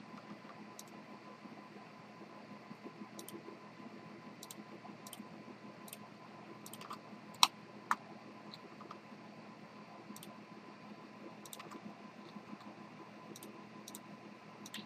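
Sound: computer mouse clicking

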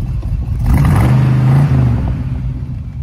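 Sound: 1979 Chevrolet Chevy Van G10 5L V8 engine starting and running

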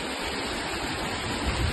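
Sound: small waterfall cascade at Los Chorros, Huasteca

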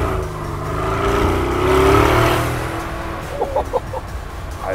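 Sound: tuned car accelerating

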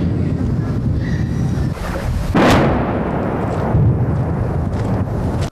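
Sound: Russian artillery fire in Bakhmut

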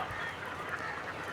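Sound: ducks

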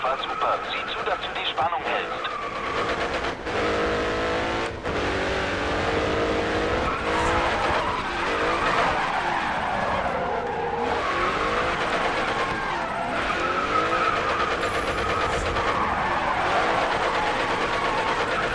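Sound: tires skidding while drifting a car in GRID Autosport video game

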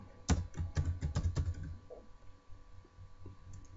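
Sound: typing on a computer keyboard in CorelDraw

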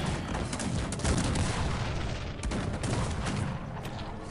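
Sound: cannons firing in the video game Cossacks 3

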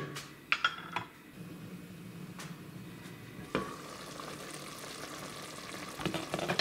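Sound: sauce starting to simmer in soup pot

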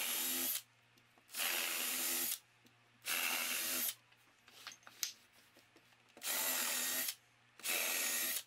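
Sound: power drill boring holes in wall for shelf brackets

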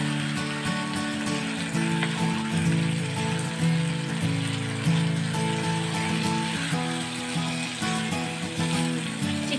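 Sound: chicken being stirred with spices in hot oil

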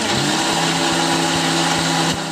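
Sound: mixer grinder grinding wheat

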